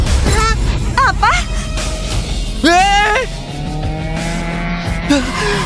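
A car engine starts and the car is driven with sharp revving bursts and rising whines, close and loud, with voices shouting over the engine.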